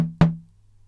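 A Nord Drum 2 channel playing an initialized empty sound: two short, plain synthetic drum hits, the second louder with a quick bright attack and a low tonal hum decaying within about half a second.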